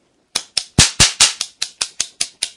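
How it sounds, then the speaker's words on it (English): A toy cap gun with a twirler fires a rapid string of about ten sharp, loud bangs, evenly spaced and close by, with no voices over them. "It's got caps in it and a little twirler, and when you do it, it'll make a nice loud banging noise."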